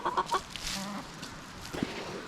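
A Green Queen Bantam hen gives a few short, close clucks near the start, followed by a softer single cluck, against quiet farmyard background.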